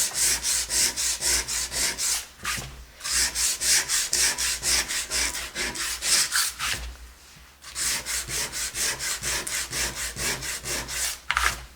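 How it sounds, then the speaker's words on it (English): Painted faux antique wood plank being sanded by hand, a rhythmic series of rough, scratchy back-and-forth strokes, close and loud, with two brief pauses and no talking. "Just want to sand into that paint just a little bit, just to make it look as if it's joined with the background."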